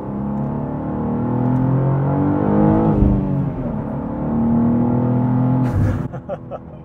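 A new BMW M2 accelerates hard past other cars under a bridge. Its engine note climbs steadily, briefly dips at a gear change, then rises again before dropping off near the end, with faint talk underneath.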